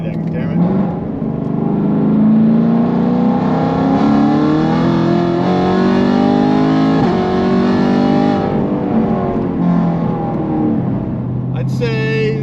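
A car accelerating hard in third gear with traction control on, the engine note climbing steadily in a loud, sustained rising roar for several seconds before easing off near the end.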